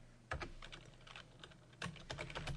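Someone types HTML on a computer keyboard in close, uneven bursts of clicking keys, with a short pause between flurries and no talking.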